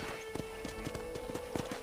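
Hooves of a horse ridden in the video game Red Dead Redemption, a rhythmic run of clip-clop footfalls at a steady trot with a faint background bed and no talk.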